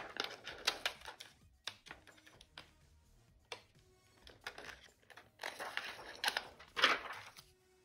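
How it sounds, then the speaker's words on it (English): Scissors cut around a clear acetate stamp window in paper, giving irregular crisp snips and crunchy rustles in short bursts with brief pauses between them. "I'm gonna go ahead and cut around it as best I can"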